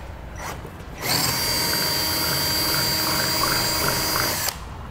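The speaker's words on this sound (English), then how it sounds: "So I'll drill our 5/16 of an inch diameter hole." A power drill bores a 5/16-inch hole near a vehicle bumper while installing air helper spring parts, a steady high-pitched whine running about three and a half seconds, close and loud, then stopping abruptly.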